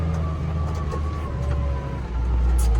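A tractor drives across a field, its engine a steady, loud low drone with a faint whine, running continuously throughout.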